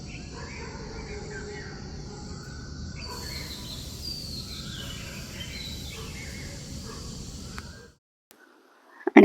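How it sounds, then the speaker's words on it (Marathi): Birds chirping outdoors around 6:30 in the evening: faint, scattered calls over a steady insect-like hum, ending abruptly near the close. "तर मस्त असा पक्ष्यांचा आवाज."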